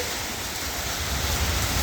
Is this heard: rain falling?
yes